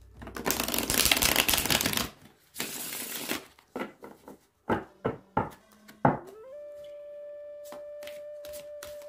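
Tarot cards being shuffled, two long dense riffling bursts followed by several short taps and flicks of cards being handled, close and fairly loud, ending with a steady tone behind.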